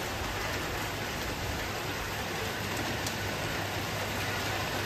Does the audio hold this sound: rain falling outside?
yes